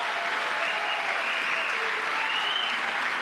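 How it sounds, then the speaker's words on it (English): Applause from the gallery during a presidential address to Congress, a steady, dense wash of clapping from a large crowd with light cheering mixed in. "Listen to that applause."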